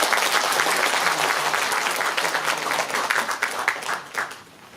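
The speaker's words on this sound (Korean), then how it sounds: "이우종 가천대 교수님께 다시 한번 큰 박수 보내주시기 바랍니다" Sustained audience applause at a book concert for a Korean election preliminary candidate, dense clapping from a hall crowd that stays loud, then tapers and fades near the end.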